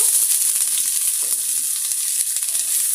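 Whole spices, cinnamon sticks, cardamom pods, cloves and bay leaves, dropped into hot oil for a chicken curry, giving a loud, close, continuous sizzle with a few faint crackles and no talking.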